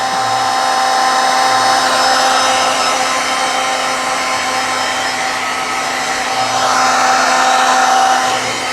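A heat tool blows steadily to dry ink on a craft card, a continuous loud whir with a faint whine that shifts slightly in pitch throughout, with no speech.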